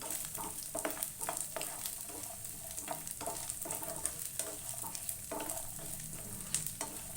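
Moong dal halwa being stirred and fried in a pan, giving a steady sizzle broken by repeated scraping strokes of a spoon at an irregular rhythm, close and fairly quiet, with no voices.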